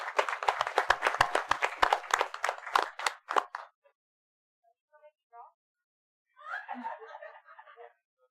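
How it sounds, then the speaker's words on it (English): A city council meeting audience claps for a newly introduced police officer in Williston: dense, fast clapping for about three and a half seconds that stops abruptly, followed by brief scattered sounds and a short burst of voices. "let's give him a hand clap and welcome him to the city of Williston"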